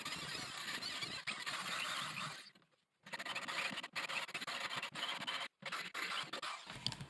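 A hole saw grinds through wooden floor joists with a harsh, loud squealing rasp, cutting in long bursts broken by short pauses as the bit is eased off and reapplied.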